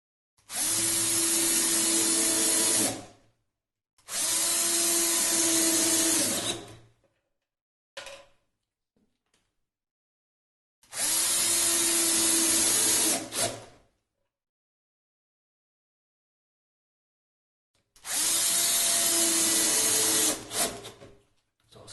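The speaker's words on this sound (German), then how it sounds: "Dann nehmen wir die 4 Schrauben, die übrig noch sind, und schrauben die Füße fest." A power screwdriver drives screws to fix the feet onto a Sela Snare Cajon kit, sounding as four loud, close whirring bursts of a few seconds each, separated by silence and one brief blip.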